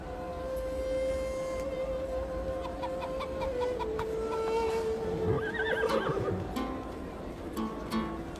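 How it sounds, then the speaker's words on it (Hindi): An Arabian horse neighs in a long, clear whinny across the first half, with a few nearby clucks from chickens or a rooster and light hoof movement against a steady outdoor background. "वो मेरा अरबी घोड़ा दौड़ के लिए इंतजार कर रहा है।"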